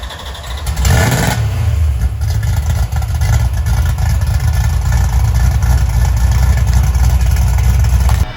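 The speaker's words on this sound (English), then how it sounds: "The X-pipe's what gives it such a unique noise" An '85 Oldsmobile Cutlass G-body race car with an X-pipe exhaust fires up with a sharp roar, then settles into a loud, choppy, steady idle close by, with no voices.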